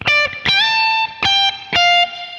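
An electric guitar with a distorted tone plays four separate picked notes, each bent up a full step and held, loud and close, in a lick.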